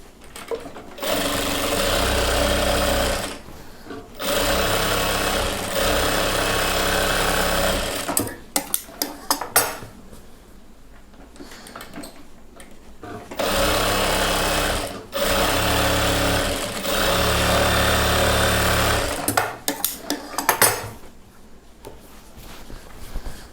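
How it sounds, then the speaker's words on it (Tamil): Sewing machine stitching the bottom hem of a chudidhar pant, loud close bursts of rapid mechanical whirring broken by short pauses and a few clicks of handling. "இப்போது இந்த ஒரு பாட்டமும் தைக்கிறோம்"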